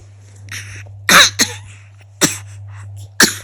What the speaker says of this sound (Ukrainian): Легеньке покашлювання.